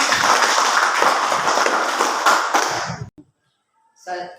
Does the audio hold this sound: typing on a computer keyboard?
no